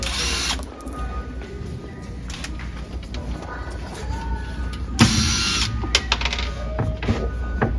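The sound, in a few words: removing cabinet screws with a power drill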